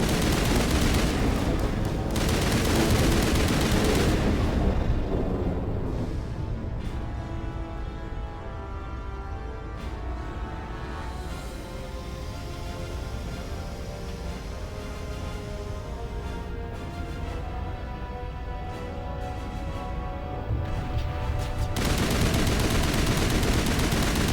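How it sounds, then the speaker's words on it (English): Sustained loud gunfire from a gun in the video game Mass Effect, dense continuous bursts with steady heavy shooting throughout and no talking over it. "the gun's really loud right now"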